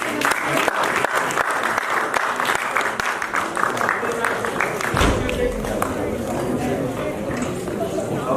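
A theater festival prize-distribution audience applauding steadily, dense clapping filling the whole stretch, with a few voices and cheers mixed in.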